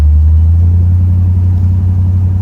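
A 1957 Chevrolet Bel Air convertible with automatic transmission cruises down the road, its engine a steady, loud low-pitched rumble heard from inside with no interruption.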